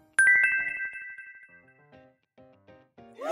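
A telephone ringtone plays a bright, clear electronic chime, a few ringing tones followed by softer tinkling notes, close and alone.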